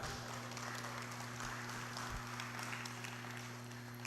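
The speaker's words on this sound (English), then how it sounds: "Give yourselves a round of applause" A seated audience at a Harris County budget information session claps for itself, a fairly faint, steady patter of many hands heard over a constant low electrical hum.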